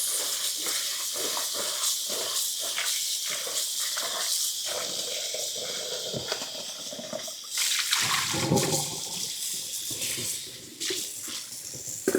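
Water running from a kitchen tap to rinse a dish after butter and crust: a close, steady hissing splash with slight shifts in flow, and no talking over it.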